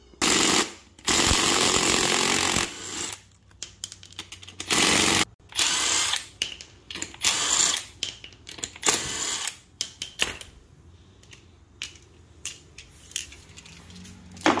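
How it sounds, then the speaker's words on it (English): An impact wrench with a 17mm socket rattles off the lug nuts on a CF Moto CForce 600 ATV wheel, loud close bursts of hammering buzz separated by pauses, clicks and handling clatter, with no talking. "And 17mm socket to get the wheels off."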